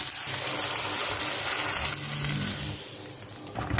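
Hot tadka of spiced tempering with red chilli is poured into a makhni handi, giving a loud close hissing sizzle that fills the clip and slowly fades.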